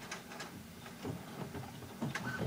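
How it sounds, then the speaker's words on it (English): A home printer powers up and runs, giving quiet, low mechanical whirring with scattered ticks and clicks through a steady faint room background. "Oh, I should turn the printer on."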